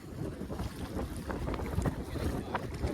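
Strong wind buffets the microphone in a steady, close roar, with gusty low rumble throughout and faint watery movement underneath.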